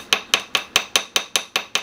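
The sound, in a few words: small finishing hammer tapping a sterling silver ring flat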